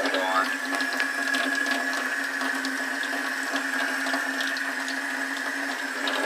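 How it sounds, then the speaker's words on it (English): Water runs steadily from a kitchen sink tap, a continuous hiss at close range, with faint clatter mixed in. "I do got some water in a sink turned on."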